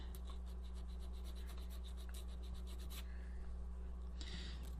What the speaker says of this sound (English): use my sanding stick to clean up any burrs and edges